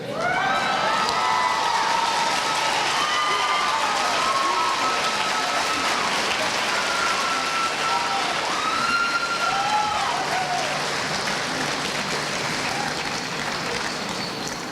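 Sustained applause and cheering from a graduation audience for the student speakers, a dense steady wash of clapping with occasional whoops and shouts rising above it, loud and continuous throughout.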